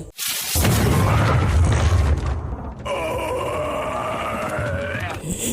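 A planted explosive wedged in a crevice of the demon Mogus detonates in the 2016 Berserk anime: a sudden, loud, deep boom rolls into a heavy rumbling roar, then gives way to a wavering, whining groan over lingering low rumble.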